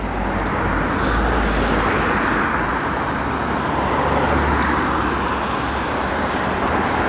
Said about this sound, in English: Here we go on the road with traffic.